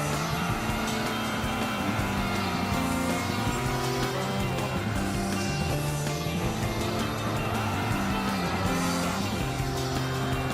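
Mitsubishi Eclipse racing in the video game Gran Turismo 6, a continuous engine whine shifting through gears with rising and falling pitch, other cars roaring alongside and brief tire squeals, steady and loud with no talk.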